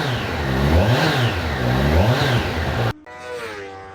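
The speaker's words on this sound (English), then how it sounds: "I'm going to try and capture some of the exhaust note with a mic that I have wired up down here." Kawasaki Ninja 1100SX motorcycle exhaust recorded by a mic mounted low near the pipe while riding, a loud droning engine note rising and falling through two rev swells before cutting abruptly to a quieter idle-like hum.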